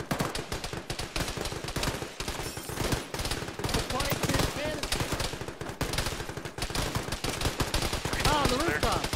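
Rapid automatic gunfire and scattered single shots crackle almost without pause in the Arma video game, played by a ShackTac group around a three-story school building with a rooftop shooter, dense and loud throughout, with voices talking over the firing.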